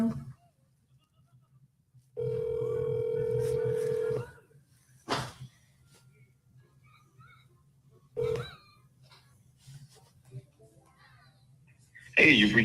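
A telephone ringback tone sounds through a phone call, steady tonal rings of about two seconds each, the first clear and loud with a shorter burst later, between bits of nearby talk and noise.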